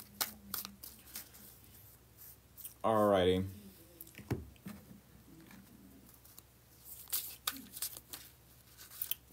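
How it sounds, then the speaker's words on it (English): Tarot cards being shuffled back into the deck give soft, scattered patting and riffling sounds, with one louder burst, mixed with a person's brief talk. "I'm still shuffling the cards back into the deck"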